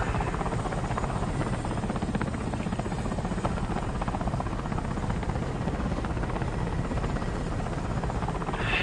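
Steady, loud helicopter rotor thrum in War Thunder, an even droning buzz held throughout with no breaks or voices.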